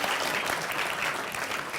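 Short burst of dense, even audience applause for a speaker at a seminar session, steady and close throughout its two seconds with no talk on top.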